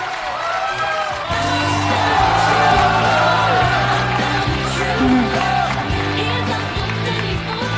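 Studio audience cheering and whooping with applause as a knife thrower's wife comes on stage, a loud sustained crowd roar under a pulsing rhythmic music beat.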